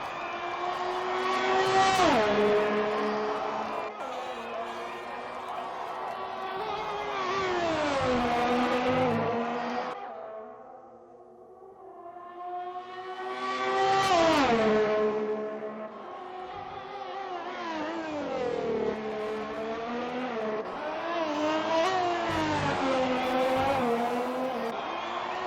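Alfa Romeo race car in a racing video game, running a lap of the Australian GP circuit: a loud, steady engine note that climbs and falls through the gears, dips briefly midway, then builds again.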